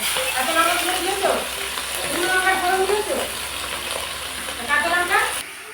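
Spices crackle and sizzle in hot hilsa fish oil throughout, a steady frying hiss with occasional stirring, while a voice talks faintly in the background.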